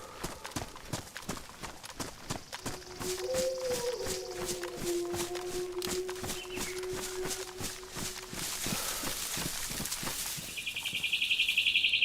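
Birds chirp and sing near a barn in the survival video game DayZ, repeated bright calls over a busy backdrop of rhythmic hoof-like footsteps, with a steady tone partway through and a hiss near the end.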